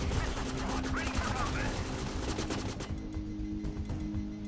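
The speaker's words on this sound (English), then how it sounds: "Rifle squad ready. Open fire." Rifle squad opening fire in the real-time strategy game Reconquest, with a steady stream of overlapping gunshot cracks and rattling bursts over a dense battle din, easing into quieter scattered shots near the end, with a voice talking alongside.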